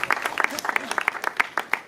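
A festival crowd at an outdoor family festival in Cork claps in a fairly rhythmic, moderately loud burst, with individual claps standing out and voices mixed in underneath.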